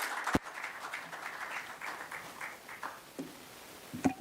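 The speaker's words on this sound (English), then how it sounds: "I think that deserves a better round of applause, please." Audience applause at a corporate half-year financial results briefing, a moderate round of clapping that holds steady and then tapers into a few scattered claps.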